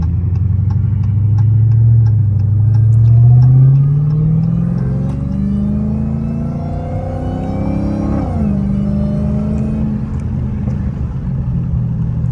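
An 820 hp Dodge Hellcat Redeye accelerates on a highway, its engine roar climbing in pitch with a rising supercharger whine, easing off briefly and then pulling again, loud and close.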